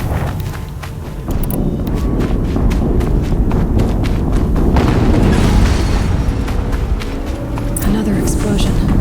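A deep rumbling explosion in the Horizon Zero Dawn video game, a sustained loud low boom mixed with clattering hoof-like thuds and game sounds.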